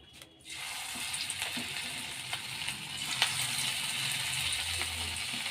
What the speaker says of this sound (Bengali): তেলটা আমার গরম হয়ে গেছে, তাই আমি এখানে এবার পকোড়াগুলো ভেজে নেব